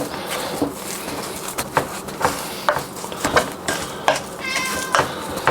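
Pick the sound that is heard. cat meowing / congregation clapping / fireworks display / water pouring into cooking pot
cat meowing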